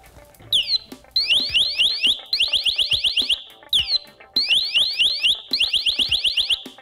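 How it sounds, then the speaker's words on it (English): SCBA PASS device distress alarm used by firefighters, repeating bursts of sweeping low and high electronic tones in a steady pattern, loud and piercing with no talk. "This universal sound incorporates a series of low and high tone audible alerts, making it easier to identify a firefighter in distress."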